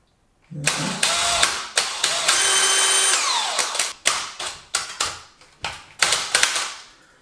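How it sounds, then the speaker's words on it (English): A power drill whirs in bursts while drilling into wood, one longer run winding down, then several short stuttering pulses, close and loud. "When you drill in, just check and see if you've got wood there."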